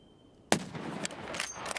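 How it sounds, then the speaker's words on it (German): A sharp gunshot cracks in Escape From Tarkov, followed by echoing reports and a few further shots that trail off quickly. "Ich hab die Schüsse einschlagen sehen"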